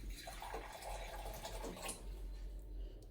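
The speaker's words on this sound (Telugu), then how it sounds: "కొంచెం వాటర్ యాడ్ చేద్దాము" Water poured into a thick semolina (suji) batter for instant dosa; a soft, faint splashing trickle lasting a few seconds, alone with no voices.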